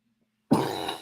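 A single sudden cough bursts out after a moment of quiet, close and loud, trailing off with a raspy tail.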